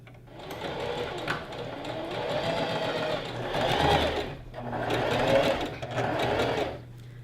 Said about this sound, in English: we'll sew this on one side, and then we'll sew the other pocket on the other side